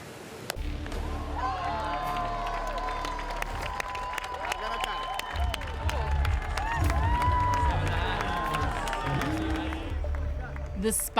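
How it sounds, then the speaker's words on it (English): A large crowd cheers and claps continuously at a Mostar sports event, swelling louder midway, with voices calling out within the broad roar. "The last man standing, Carlos Jimeno enjoying the atmosphere of the crowd."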